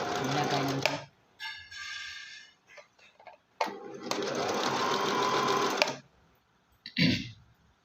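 Sewing machine stitching a hindola jhalar, a fabric frill, runs in bursts of rapid mechanical ticking with short pauses between runs, close and fairly loud, with no talk over it.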